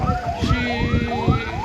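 An ambulance siren at a fatal road accident in Morocco wails, sweeping up and down repeatedly, loud and close, with a deep engine rumble underneath.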